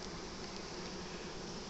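Bees buzz in an open beehive during an inspection, a steady dense hum close by with no pauses and nobody talking.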